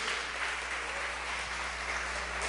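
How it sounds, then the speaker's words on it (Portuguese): A church congregation claps together in praise of God during a prophetic sermon, a continuous wash of applause at moderate distance over a low steady hum. "Levante as suas mãos e aplauda bem forte o nome do nosso Deus"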